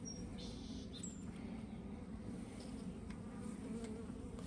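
Honeybees from a freshly installed package buzz in a dense, continuous hum close by, with a few brief higher tones drifting over it and no talking.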